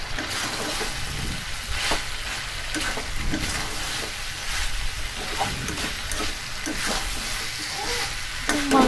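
Desi chicken sizzles loudly in hot oil while being stirred in a pan, with a constant dense frying hiss and scraping stirs throughout, close and continuous.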